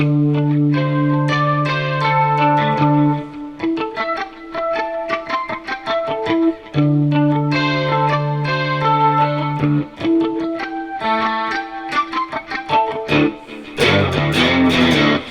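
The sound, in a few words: electric guitar harmonics intro with effects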